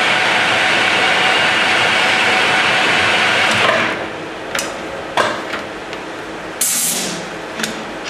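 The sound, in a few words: metal lathe turning a taper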